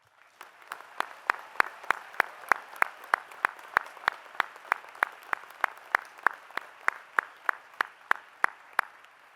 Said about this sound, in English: let us take a moment to applaud these graduates